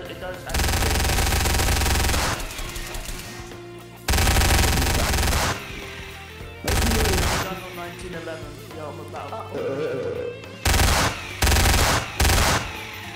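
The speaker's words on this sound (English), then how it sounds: "Well, I'll shoot at you because you're inside my base." Sustained bursts of loud automatic gunfire in Gmod DarkRP during a base fight, several long sprays broken by short pauses and quick follow-up bursts near the end.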